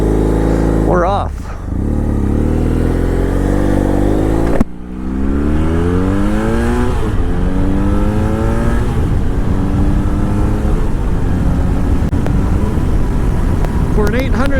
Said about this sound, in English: For an 800cc motorcycle, they're not a complete rocket ship.